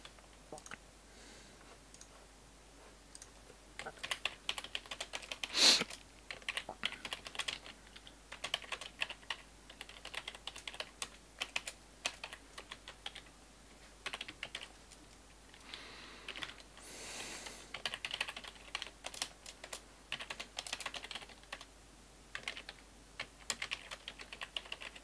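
A chat message is typed on a computer keyboard while playing the strategy game Forge of Empires: quick, close, irregular key clicks come in bursts with short pauses, and no voice can be heard.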